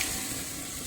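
Chicken pieces fry in hot oil with turmeric, a brief, close, steady sizzle at moderate loudness.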